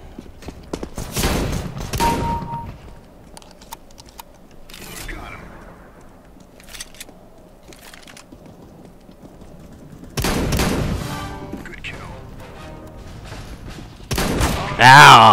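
Gunfire from a shotgun in the video game CS:GO, with a few loud broadband blasts spread across the clip, the heaviest near the start and end, while players talk over the action.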